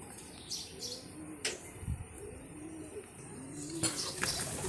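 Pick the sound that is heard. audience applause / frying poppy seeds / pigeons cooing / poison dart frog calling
pigeons cooing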